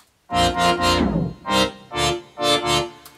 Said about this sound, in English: so it just adds a little bit of glitter on top of that already cool synth